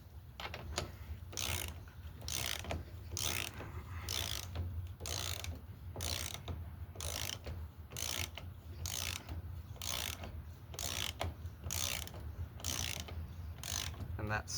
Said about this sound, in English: Tighten these down with a ratchet, not an impact.